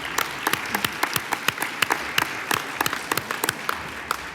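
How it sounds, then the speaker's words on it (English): Applause from an awards ceremony audience, with many hands clapping in a dense, steady patter and sharper individual claps popping out. Moderately loud and close, lasting throughout with no talking. "Give everybody a round of applause."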